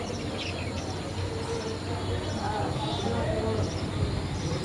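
Pet birds chirp in short, faint calls from their cages, scattered over a constant noisy hum that fills the whole stretch.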